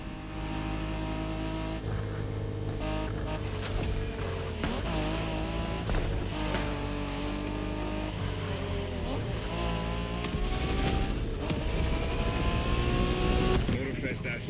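Street racing car engines in the video game The Crew Motorfest, with loud sustained revving and shifting engine tones layered over a dense backdrop, while voices talk over the action.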